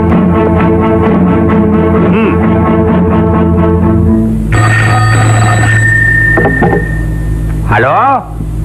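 A telephone rings in a film scene, a steady electronic ringing over background music that stops partway through, followed by the ring and a short voice moment near the end.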